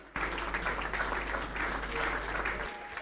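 An audience at a music awards ceremony applauds in sustained, dense clapping that stays steady for a few seconds before stopping, with an announcer's voice mixed faintly into the crowd noise.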